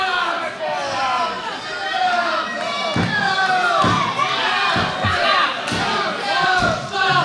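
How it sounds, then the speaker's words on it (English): Wrestling arena crowd cheering and shouting at a live match, a loud continuous roar of many voices with occasional thumps from the ring. "Mike the Bull working the crowd"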